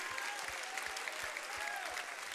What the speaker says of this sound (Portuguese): Vamos, gente, vamos aplaudir